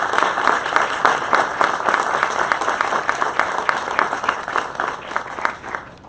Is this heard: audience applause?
yes